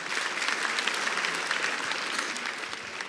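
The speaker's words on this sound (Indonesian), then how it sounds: "Sekali lagi tepuk tangan buat Ridwan" Audience applause for stand-up comedian Ridwan Remin at a comedy show in Bogor, a dense, steady wash of many hands clapping at once that holds loud and even throughout.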